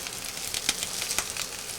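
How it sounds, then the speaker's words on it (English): A salmon fillet fries in clarified butter over medium heat in a pan, giving a steady close sizzle with a couple of brief louder crackles and no talk. "I'm frying this salmon in clarified butter."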